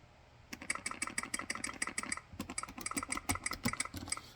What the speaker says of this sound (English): see it's typing